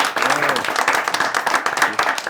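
A studio audience applauds a guest, a Kenyan member of parliament, with brisk dense clapping close by while a voice briefly speaks over it.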